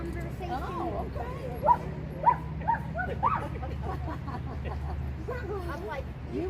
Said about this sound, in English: You're so noisy. No, Rio and I are just having a dog conversation